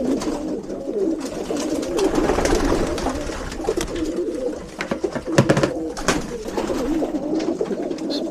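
A pigeon cock coos steadily while being handled, low throaty rolling calls close up, with faint rustling and handling noises around it and no speech.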